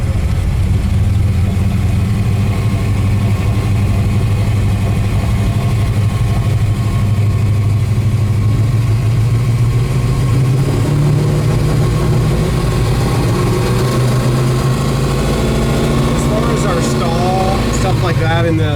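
A 1969 Chevelle with a 700hp engine idles with a heavy, lopsided rumble throughout, rising slightly in pitch partway through, while someone talks over it close by.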